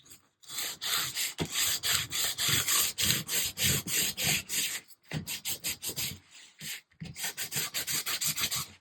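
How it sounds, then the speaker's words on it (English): Sandpaper rubbing the shiny coated surface of cereal box cardboard, a close, rhythmic series of quick scratchy back-and-forth strokes with two short pauses between bursts, no talking. "I'm going to sand this down a little bit because I have to glue some fabric to it."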